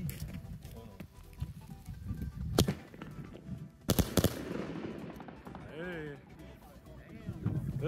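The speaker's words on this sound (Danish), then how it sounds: "Så tager vi det sidste thunder shot." Large Thundershot firecrackers go off outdoors in a sharp cluster: one loud bang, then a quick volley of three close blasts a second later. Several voices talk throughout.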